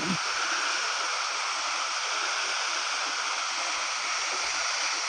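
A waterfall pours into a lagoon at Mother Falls, a steady broadband roar of falling water that fills the whole clip without a break, loud and close, with no voices over it.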